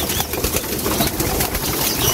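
Hungry pigeons being fed crowd together close by, with busy, continuous fluttering of wings, scuffling and soft cooing that fill the space without pause.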